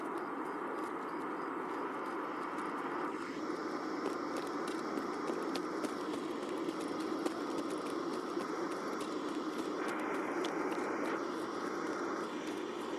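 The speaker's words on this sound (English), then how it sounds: "I'm gonna use the sound of the plane as cover" A propeller airplane drones steadily overhead in the video game Escape from Tarkov, a continuous mid-level hum holding through the whole stretch with faint game noises layered on top.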